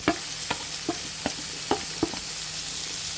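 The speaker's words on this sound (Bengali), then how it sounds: "এখন ভালোভাবে কষিয়ে নিতে হবে" Spices with salt, chili powder, coriander powder and turmeric being sautéed with chopped spring onion in a pan for a Bengali egg curry: a steady low sizzle broken by about six sharp, evenly spaced spatula scrapes and stirs, close and alone.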